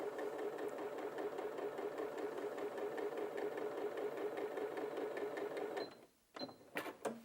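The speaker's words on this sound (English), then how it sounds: "that's going to sew a consistent 1/4 inch seam all the way along" A Janome 8200QCP sewing machine runs steadily and evenly while stitching a quarter-inch seam through fabric, then stops near the end, followed by a few small clicks and rattles.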